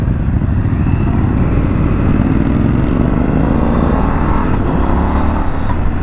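A Triumph Scrambler 1200 motorcycle being ridden and accelerating, a loud steady engine roar mixed with heavy wind rush, constant and close throughout, with no talk over it.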